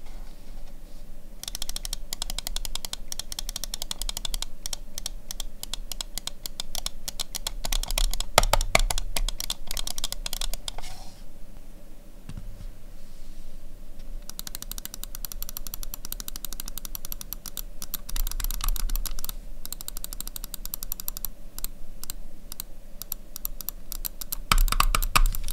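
Rapid, dense clicking of gaming mouse buttons, a Razer Deathadder V3 Pro and a Glorious Model D, in close, crisp bursts with only brief pauses, alone without speech.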